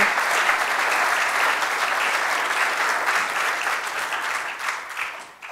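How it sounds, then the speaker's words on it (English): A church congregation gives a sustained round of applause, dense and even throughout, with a slight fade toward the end. "I want you guys to give them a round of applause."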